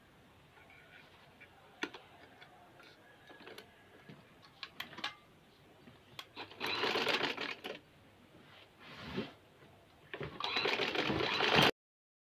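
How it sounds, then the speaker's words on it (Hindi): A sewing machine double-stitching cord piping onto fabric for an anarkali-style garment, running in several short whirring bursts separated by pauses and light mechanical clicks. "डोरी पाइपिंग को उल्टी साइड से हमने डबल सिलाई करनी है।"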